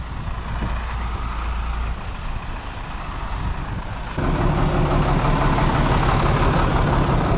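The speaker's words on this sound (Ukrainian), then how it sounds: "Так китайські трактори вернуть землю." A Chinese tractor engine drones steadily and loud while plowing stubble in a field, its low rumble swelling heavier about halfway through as the load increases. No voices are heard.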